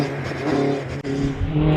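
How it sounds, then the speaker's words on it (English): A race car pulls away from the start line at the Prescott hillclimb during British Hillclimb practice, its engine holding a loud, steady roar with a brief dip before surging again, close and alone. "Terry Davis is on the line in the fourth TA, car 151."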